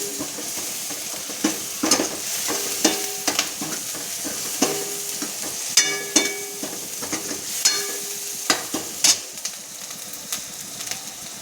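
Gravy masala for green moong sabji roasting in a pan: a low sizzle under frequent clinks and scrapes of a spoon against the pan, irregular knocks spread across the whole stretch, no talking.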